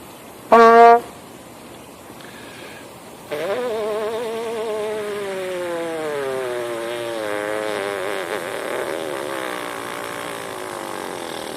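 A short blip, then a trumpet player's buzzing lips produce a sustained, buzzy tone that slides slowly and steadily downward in pitch, close and fairly loud.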